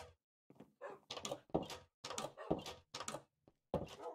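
Wooden doors in a Minecraft-style block game open and close repeatedly, giving a quick series of close, loud thuds and clunks with short gaps between them.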